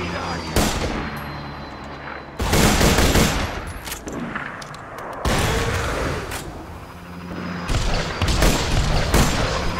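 Sustained automatic gunfire from Borderlands 2, loud rapid bursts that stop and restart in several long volleys, with booming impacts mixed in and no voices.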